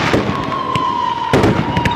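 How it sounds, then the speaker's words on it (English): Fireworks go off in a backyard at a birthday celebration, with loud crackling bursts and sharp bangs over a steady whistling tone. A strong burst lands just past the midpoint. "Film the fireworks!"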